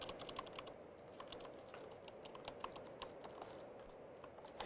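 Rapid, continuous typing on a Corsair K60 RGB keyboard with Cherry MX switches, dense overlapping key clicks at a steady pace, close and moderately quiet, with no talking.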